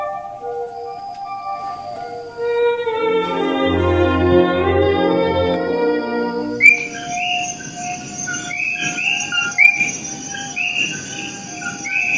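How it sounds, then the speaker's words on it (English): Loud frog chorus inside an indoor garden rainforest exhibit, with steady high trilling calls and repeated bright chirps layered over a dense, continuous wall of sound. "People think we have a recording going of the frogs, but we don't need a recording. They're so loud in there."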